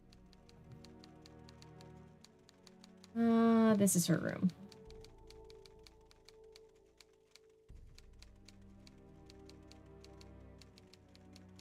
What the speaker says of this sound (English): you can hear the typing of the typewriter